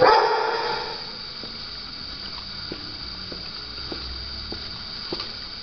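At an animal shelter, dogs bark in sparse, repeated yips and woofs from somewhere distant in the kennels, faint against a constant background hum.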